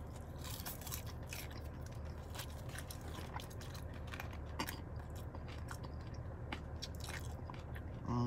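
Someone bites and chews crunchy, salty Golden Chick french fries close to the mic, making repeated crisp crackles and crunches in an irregular rhythm with no talking.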